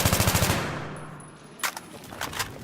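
A rapid burst of automatic gunfire in Battlefield 3 rattles off about ten evenly spaced shots in half a second, trailing into a long echoing decay, followed by a few fainter distant pops.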